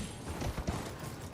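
Horse hooves clip-clopping in a video game, a quick run of soft hoof thuds over a dense, steady background of game noise, no voices.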